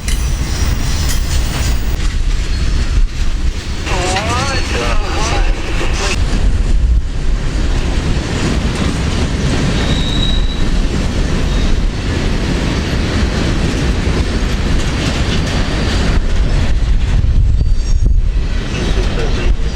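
A long freight train rolls past close by, a loud continuous rumble with steady clickety-clack of wheels over rail joints and a brief high squeal midway.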